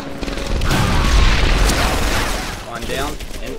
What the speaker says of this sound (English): a quick burst from the MG42